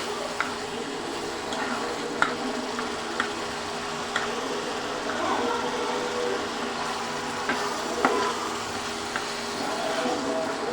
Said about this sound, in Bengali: আমি ডিমগুলো দিয়ে দিব আলতো হাতে নেড়ে নিব আমি